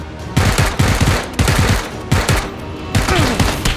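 Bursts of automatic gunfire in the PlayerUnknown's Battlegrounds video game, loud rapid strings of shots separated by brief pauses.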